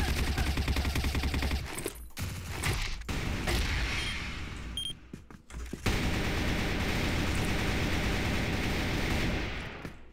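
Gunfire crackles through a sniper video game, a dense, sustained fusillade of rapid shots with booming bursts, loud and close, briefly dropping out twice before the barrage resumes.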